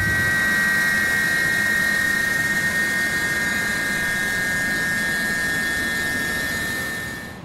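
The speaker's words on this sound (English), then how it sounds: "Shut down engines 1 and 2." Jet engines of a UPS Airbus A300F freighter in a flight simulator spool down while parked, a loud steady whine with droning turbine tones that holds level and then fades near the end.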